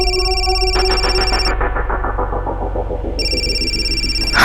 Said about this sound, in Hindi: इस मक्कर का भी फोन अभी आना था।